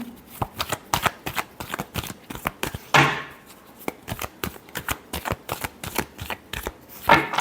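Tarot cards are shuffled by hand in a steady run of crisp riffling bursts, close and fairly loud, with a couple of heavier slaps where the deck is squared, and no talking.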